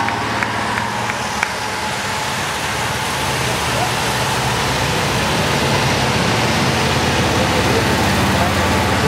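Haflinger off-road vehicles driving past in a parade in Schönberg, a continuous rumbling engine and road noise, dense and fairly loud, with an announcer speaking over it.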